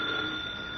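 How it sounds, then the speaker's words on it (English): A telephone rings in a brief, quiet burst of steady bell tone, heard as a sound effect in a 1941 radio crime drama. "it's the phone."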